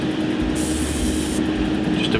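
A short hiss of an airbrush spraying clear coat on a Gundam model bursts in for under a second over a steady extractor fan drone, then cuts off as the background hum continues.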